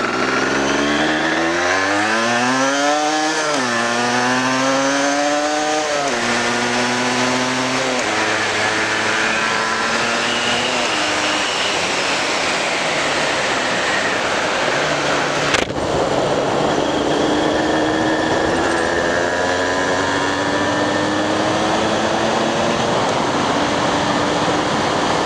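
A two-stroke 125cc Yamaha DTLC motorcycle engine runs steadily and loudly, its pitch rising and falling through several revs early on before settling into a buzzing idle.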